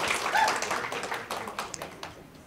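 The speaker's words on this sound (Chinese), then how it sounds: "我们给立方一个掌声好吗？" An audience at a Mandarin public-speaking training session gives a short burst of scattered clapping, loudest at the start and then thinning into a few separate claps.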